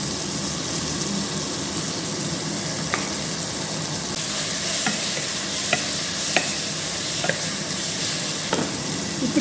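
Tomatoes sautéing in a pan as salt is added, a steady loud sizzle punctuated by a series of sharp spoon clicks and scrapes from stirring, with no talking.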